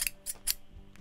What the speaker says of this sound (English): Are we ready to get the scissors out?